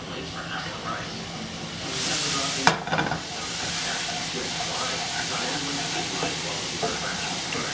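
Water is splashed into a hot pan of textured vegetable protein, bringing up a brief sharp hiss and steady sizzle that carries on close and moderately loud under faint kitchen noise.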